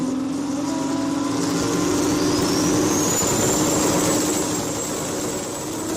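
Drag racing cars at a World Cup Finals testing event rolling into the pre-stage beams: a loud, continuous engine roar that holds steady, with one engine's pitch climbing as it revs, no talk.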